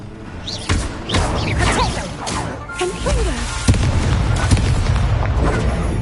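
The Incendio fire spell is cast repeatedly in the Hogwarts Legacy video game, giving a series of booming thumps and bursts, with a voice in the background.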